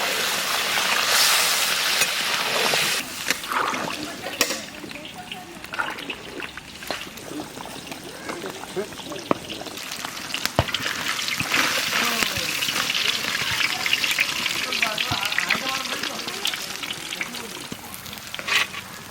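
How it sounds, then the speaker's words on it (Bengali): Water hisses and sizzles as it is poured into a pan of frying potol chingri, pointed gourd with shrimp, for gravy, with steady crackling, bubbling and stirring clatter, and people talking over it. "তাহলে এখন আমরা জল দিয়ে দিই, দিয়ে দাও। জল দিয়ে ঝোল করে নেব।"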